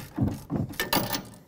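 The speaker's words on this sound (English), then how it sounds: "I'll bottom it out and then come in with the torque wrench." A wrench ratchets on an upper control arm bolt of a 2005-2021 Nissan Frontier 4.0L V6, giving several close, fairly loud clicking pulls in an uneven rhythm.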